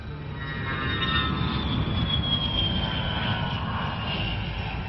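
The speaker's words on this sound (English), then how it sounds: "A plane." A fixed-wing airplane passes overhead with a steady, loud engine roar that fills the whole moment and holds a slowly shifting whine, with no voices.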